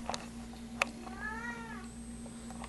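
A pet cat, an indoor-outdoor tomcat, gives a single drawn-out meow in a quiet room, preceded and punctuated by a few small clicks and a sharp tap.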